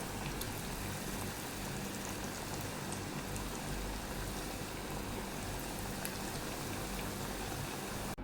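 Kuzhalappam, a rice-flour snack, fry in hot oil three or four at a time, a dense, steady bubbling sizzle that stays even and unbroken throughout, with no talking.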